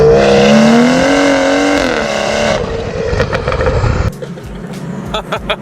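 Loud revving from a modified BMW 340i M Sport engine, a rising and falling growl that settles to idle, followed by sharp pops and crackles, close to the listener.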